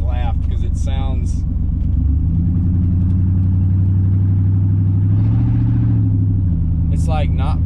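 Loud, raspy idle and a short rev from a 5.7 V8 running a true dual muffler-delete exhaust, close by, the pitch rising and settling back, with speech over the start and end.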